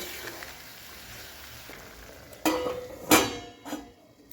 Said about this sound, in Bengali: জল দিয়ে ভালো করে আবার আমি কষিয়ে নিচ্ছি